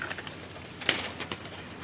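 Young pigeons in Faisalabad give soft coos and short calls among a few faint wing flutters, heard briefly at close range with no talking.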